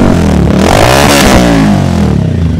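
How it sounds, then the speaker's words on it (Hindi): A TVS Ronin 225 fitted with a full-system exhaust is revved hard up close; the engine pitch climbs quickly, peaks, then drops back with a loud, raspy bark. "अब देते हैं थ्रोटल"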